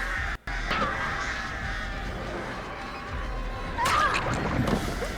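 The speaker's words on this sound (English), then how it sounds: "Repel! Repel, foul birds!" Crows caw in the Dead by Daylight video game, harsh calls rising over a steady ambient game soundscape, with a louder cluster of caws near the end.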